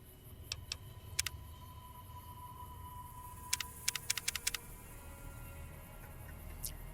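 Sparse computer keyboard keystrokes, a few isolated clicks then a quick cluster of taps, fairly quiet over a steady low room hum with no talking.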